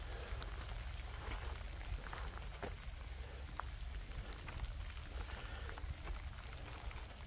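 Continuous rain patters evenly throughout at night near a bridge, with a low rumbling wash underneath and a few faint ticks; no talking.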